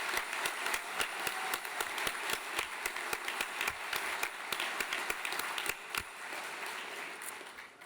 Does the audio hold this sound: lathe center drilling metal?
no